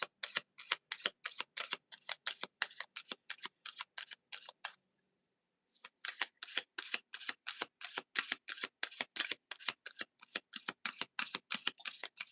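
Tarot cards being shuffled, a fast, steady run of crisp riffling snaps close up, broken by a brief pause before the rhythmic shuffling resumes and continues to the end, with no talking.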